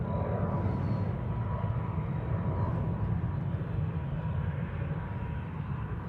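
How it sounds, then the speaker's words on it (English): A Jetstar airliner takes off from Sydney Airport, a steady, distant roar of jet engines holding at a constant level throughout. "Jetstar 47 off to Seoul Incheon"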